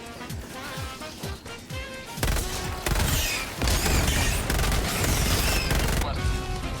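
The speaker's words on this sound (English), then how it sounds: "Damn, we destroyed the building." Explosions bring down a building in Helldivers 2, with rapid gunfire giving way to heavy booming blasts and crashing debris that build into a loud, sustained roar.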